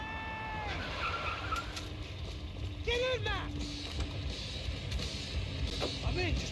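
Car engine and tire skids in Max Payne 3 video game during a chase, revving and squealing under shouted voices and ambient game noise.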